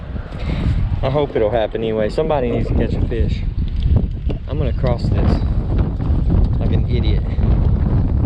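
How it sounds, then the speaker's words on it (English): Strong wind gusting across a lake during late-winter bass fishing, a steady rushing roar buffeting the microphone throughout while people talk over it. "Wind's brutal, ain't it?"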